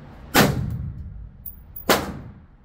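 A modified AR rifle in .223 fired twice on a range, each shot a sharp report followed by a short ringing tail, about one and a half seconds apart.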